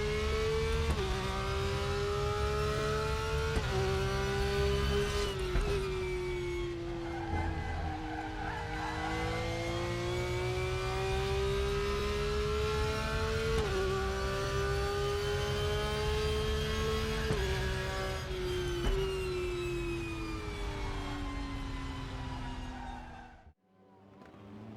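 Porsche GT3 race car engine in the RaceRoom racing game, a loud, sustained high-pitched howl rising and dropping through gear changes and steady revs, with faint tire noise, before cutting off abruptly at the end.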